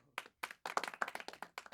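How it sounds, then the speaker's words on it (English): A small live cooking-demo audience claps in a brief burst, uneven hand claps rising quickly into a short round of applause lasting under two seconds, close and moderately loud. "Round of applause."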